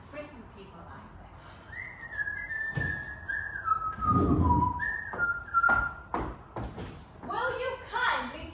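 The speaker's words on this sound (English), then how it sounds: "Will you kindly stop whistling?" A person whistles a wavering, gliding tune for a few seconds indoors, with a door knock or thump partway through and voices talking toward the end.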